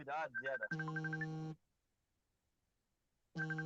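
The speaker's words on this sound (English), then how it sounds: "Somebody is ringing." A telephone ringtone sounds in two loud, clear electronic bursts separated by a short silence, with a voice heard just before the first ring.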